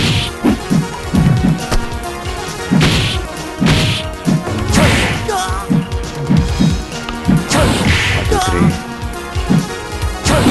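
Punches, kicks and crashing hits from Street Fighter II land in quick bursts, loud and close, with a fighter's voice shouting among the blows.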